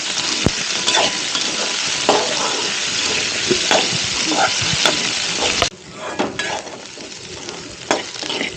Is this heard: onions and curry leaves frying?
yes